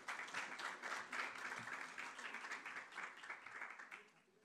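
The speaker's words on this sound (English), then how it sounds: "Please welcome her with a huge round of applause" An audience at a TV food drama show launch event applauds to welcome actress Chitrangda Singh, giving a dense, continuous round of clapping that is fairly quiet overall and fades slightly toward the end.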